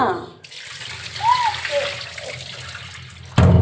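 Lentils (dal) are swished and rinsed in water, a soft watery sloshing close by, ending in a sudden louder splash or pour.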